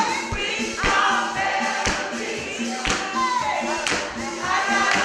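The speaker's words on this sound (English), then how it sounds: "Everybody, y'all can clap your hands" Audience clapping along at a city choir performance, sharp hand claps in a steady rhythm mixed with singing and music, moderately loud and close.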